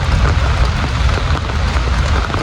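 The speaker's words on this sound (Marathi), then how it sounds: "पाऊस पण आहे ना, चालेल तर चालेल." Steady, heavy rain pours down at a fishing spot, a dense and even wash of noise that stays loud and close throughout, with no voices.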